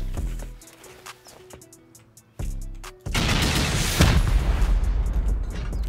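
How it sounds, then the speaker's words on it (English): Rockets fired at a bunker in a survival video game. A muffled thump sounds first, then a loud, sustained explosive roar fills the second half of the clip, with faint music-like tones before it. "We'll send 8 rockets here."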